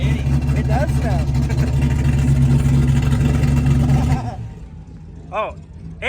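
A race car engine idles loud and rough at the raceway with a constant low rumble that drops away near the end, as a person talks briefly.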